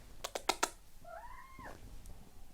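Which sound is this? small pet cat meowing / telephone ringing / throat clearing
small pet cat meowing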